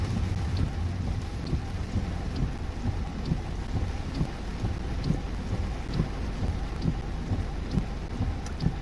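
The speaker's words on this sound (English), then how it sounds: "Of course, the rain is pretty torrential." Torrential rain from Tropical Depression Fred pouring down steadily in town streets, a dense, constant hiss of heavy downpour with faint drips and low rumbling underneath.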